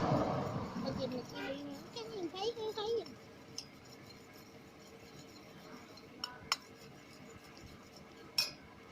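A spoon stirs a homemade slime mixture in a small container, giving soft scraping and occasional clinks over a few seconds, with a voice talking at the start.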